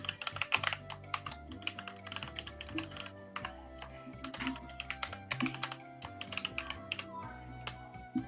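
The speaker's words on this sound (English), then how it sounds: "I hear the mechanical keyboard." Rapid clattering keystrokes on a mechanical computer keyboard, close and continuous with uneven bursts of typing.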